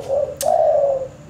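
A caged perkutut zebra dove gives one soft, sustained coo, low and close, with a brief high chirp breaking in partway through.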